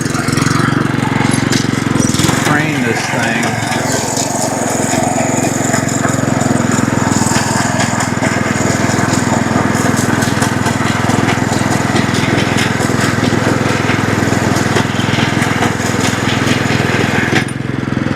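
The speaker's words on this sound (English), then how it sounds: "I got a putting green mow because I'm mowing it every day." A lawn mower runs loud and steady throughout, its engine droning close by while the blades cut a putting-green-length lawn; a voice briefly speaks over it.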